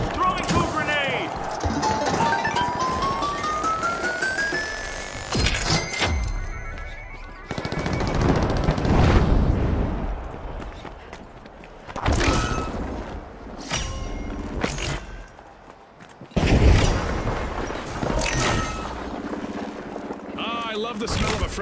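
Thrown grenades detonate in the arena shooter video game The Finals, several heavy blasts breaking through a busy mix of rapid gunfire and game effects, with voices talking in places.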